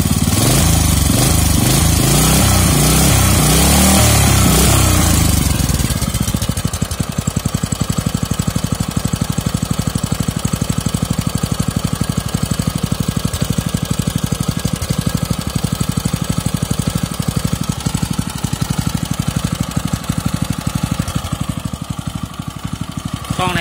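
A Kubota GS150 small engine runs close by, loud and steady, with a rapid chugging pulse and a rougher, busier start that settles into an even idle.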